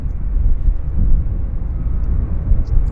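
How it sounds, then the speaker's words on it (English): A WestJet airliner climbing out after takeoff at Vancouver Airport, a steady loud low-pitched jet engine roar that holds level throughout, with no voices. "WestJet number 2 climbing out."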